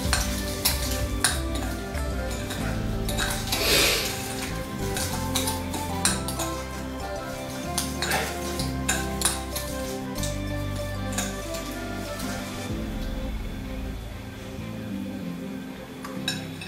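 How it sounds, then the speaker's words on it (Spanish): Gingerbread cookie dough being stirred in a bowl, with steady scraping and clinking of a utensil against the bowl's sides in a kitchen, continuous and fairly close. "Vamos a seguir mezclando."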